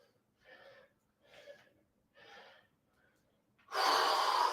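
Heavy breathing from a person doing split squats in a full-body workout: three labored breaths in a steady rhythm, close and moderately loud, then a sudden loud burst of broadband noise at the end.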